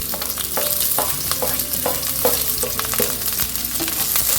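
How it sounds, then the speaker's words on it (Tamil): Onion, dried red chillies and curry leaves frying in hot oil with chana dal and urad dal for a rice-flake upma, a loud continuous sizzle with repeated close spatula scrapes against the pan. "கடலைப்பருப்பு உளுத்தம்பருப்பு பொரிஞ்சதும் நம்ம கட் பண்ணி வச்சுருக்கிற ஆனியனும் வரமிளகாயும் கறிவேப்பிலையும் கலந்துக்குவோம்"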